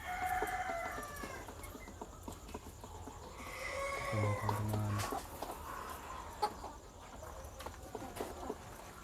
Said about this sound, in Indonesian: Kalau ini sebelahnya ayam apa nih, Pak Nga?